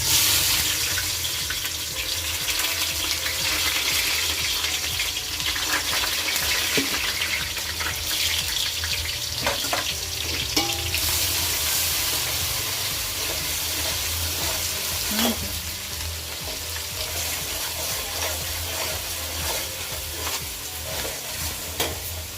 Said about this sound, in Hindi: गोल्डन ब्राउन होने तक हमको ये अनियन को फ्राई करना है।